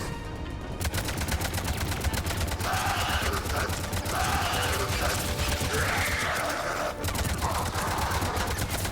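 Gunfire from the video game Mass Effect 3 rattles continuously in dense rapid bursts, thick and loud throughout, with voices talking over the shooting.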